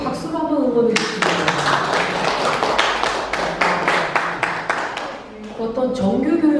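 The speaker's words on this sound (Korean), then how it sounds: "여러분 박수로 한번 응원해 주시기" An audience claps to cheer on an inventor at a talk about his generator. A run of loud, fairly even claps lasts several seconds, with speech just before and after.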